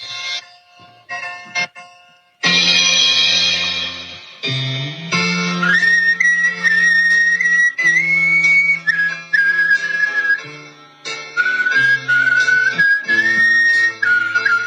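A man whistles with his throat rather than his lips, a loud, wavering high-pitched tune up close, holding long sliding notes after a few short opening bursts.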